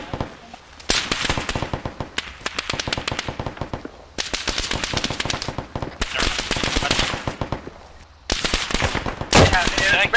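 Rapid bursts of automatic and rifle gunfire in the Vietnam-era combat game Arma 3, loud and close, with long rattling volleys separated by brief pauses and voices talking underneath.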